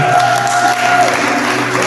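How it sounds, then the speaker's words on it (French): A church congregation bursts into sustained applause and cheering during a French-language worship service, the dense clapping holding steady and loud throughout with a thin tone sounding faintly beneath. "Donne des acclamations au Seigneur."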